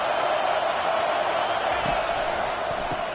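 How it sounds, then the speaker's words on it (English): Dense, steady roar of a packed stadium crowd at a Nebraska college football game, a continuous wash of voices and noise with a few faint thumps, no single voice standing out. "This crowd trying to make life miserable for this offense."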